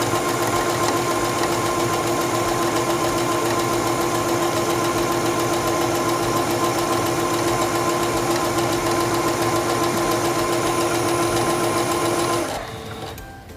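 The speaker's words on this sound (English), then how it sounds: "Put your fabric underneath the presser foot, lower the presser foot, and begin sewing." A Singer 7258 computerized sewing machine stitches fabric with a fast, even mechanical whir that runs steadily for about twelve seconds, then cuts off abruptly.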